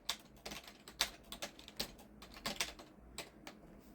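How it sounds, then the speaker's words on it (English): Soft clicking of keys on a computer keyboard, an irregular run of close, quiet taps with brief pauses. "You can type in stuff and it finds stuff for you. So I'm typing in"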